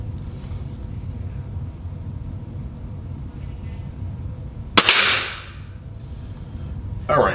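A single sharp, loud Ruger Blackhawk revolver shot cracks out and decays over a low background rumble, with a second impact starting at the very end.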